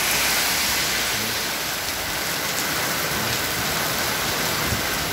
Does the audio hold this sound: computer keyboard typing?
no